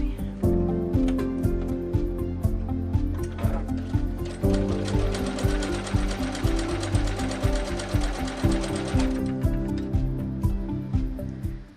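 A computerized sewing machine with automatic tension runs a twin needle stitch at a 3.5 stitch length, giving a steady, fast mechanical whir with rapid ticking that continues for most of the span, with a few brief pauses.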